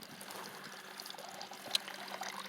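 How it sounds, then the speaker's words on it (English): A garden water fountain trickles in a steady, soft stream, heard close up and alone with no talking. "This is our water fountain, George."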